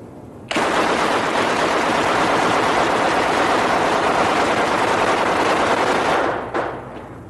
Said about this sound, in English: Safety's coming off. Safety's off. Weapon's hot.